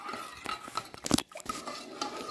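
Chocolate pudding mixture stirred in a pot on the stove, with a spoon clinking and scraping against the metal in an uneven rhythm, close and fairly quiet, and a brief louder clatter partway through.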